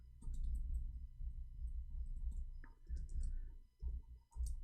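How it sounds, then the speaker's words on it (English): Quiet clicks of typing on a keyboard come in irregular bursts, with short pauses between flurries of keystrokes, close and faint, with no talking. "I cannot read your text when I am typing."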